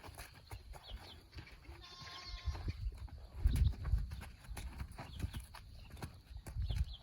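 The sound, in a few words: young horse walking, hooves clip-clopping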